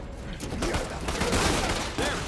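Heavy, rapid gunfire fills a brief Uncharted 4 firefight, a dense continuous barrage up close, with voices briefly heard beneath the shots.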